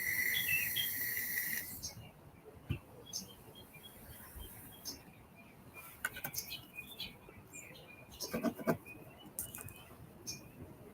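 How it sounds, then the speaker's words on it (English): Outdoor ambience in California with steady insect chirring and faint intermittent bird chirps, a high sustained buzz at first, then scattered soft clicks and tweets in the distance. "Those birds that you hear, Californian birds."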